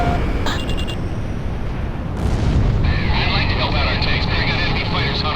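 Deep booming blasts and roaring jet noise from Ace Combat 6 air combat, with a loud rumbling explosion building around the middle and a sustained roar after, radio voices talking over it.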